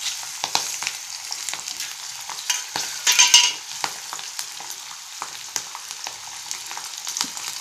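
Chillies roast in a pan for a peanut curry, giving a soft crackling fry with scattered pops and brief scraping bursts of stirring, close but fairly quiet.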